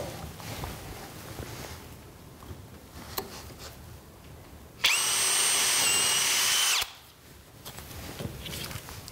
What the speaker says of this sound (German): Dafür muss ich ein klein wenig vorbohren.